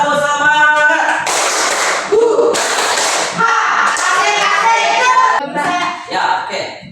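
A school class claps together in a quick rhythmic spirit-clap routine, loud and continuous bursts of hands with children's voices mixed in.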